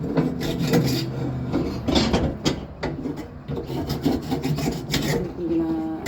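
Grease being scrubbed off a barbecue grill, a continuous harsh rasping and rubbing in quick back-and-forth strokes, close and fairly loud throughout with no talking.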